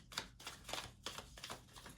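Tarot cards being shuffled by hand at a table for a pick-a-card reading, giving several quick papery riffling bursts in a steady rhythm, close and fairly quiet with no talking.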